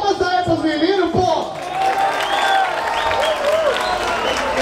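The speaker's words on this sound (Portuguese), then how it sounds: "Palmas pra essa batalha!" Crowd clapping and cheering for rap battle contestants at a street freestyle battle semifinal in São Paulo, loud applause and shouts with a host talking excitedly over it throughout.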